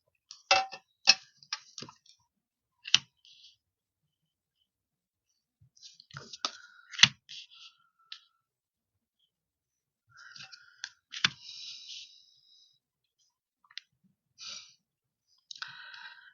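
Tarot cards are drawn and laid down in a quiet room, giving sparse, crisp clicks and taps in short clusters separated by silent gaps.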